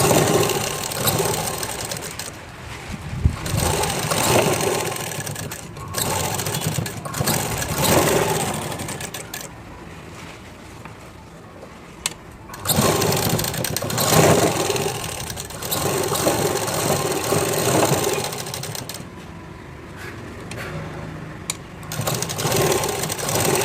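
Sewing machine stitching the side joint of a blouse, a steady motorized whirring that runs in long bursts, pauses briefly around the middle and then resumes, loud and close.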